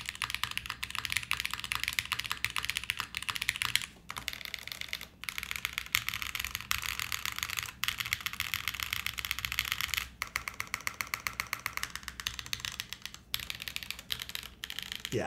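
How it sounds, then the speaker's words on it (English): Rapid, continuous clacking of keys on a Quantum60 mechanical keyboard, close up, with a few brief pauses between bursts of typing. "Maybe the weakest part about the sound of the keyboard."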